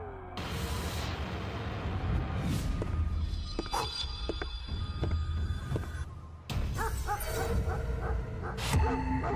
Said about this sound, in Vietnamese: Đó là chó linh.